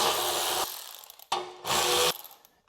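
Bolts coming off the rear of a John Deere mower: two loud, close bursts of a ratchet or power driver spinning, each about a second long and separated by a short pause, with clicking as they wind down.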